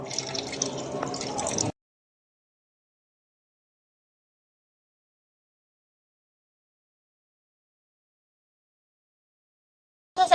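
Water poured into the main drain pipe of a miniature septic tank model, a close, steady splashing trickle lasting under two seconds before cutting to silence, with a short burst of sound returning at the very end.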